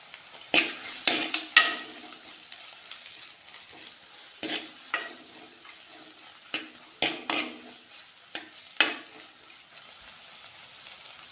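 Ginger, green chilies and curry leaves sauté in a pan for a sardine curry, a steady sizzle broken by sharp scraping stirs in quick bursts, close and clear with no talking.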